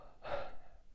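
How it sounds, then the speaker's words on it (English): One sharp, breathy inhale, quite quiet, in a Midwest emo song. "So much breathing had to happen right there."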